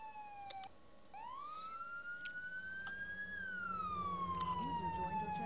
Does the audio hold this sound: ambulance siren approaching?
yes